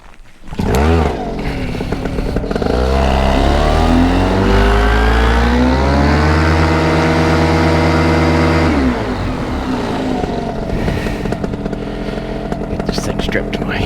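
A paramotor engine starts up close by and revs, its loud buzzing drone climbing steeply in pitch, holding high, then dropping back to a steady rough idle.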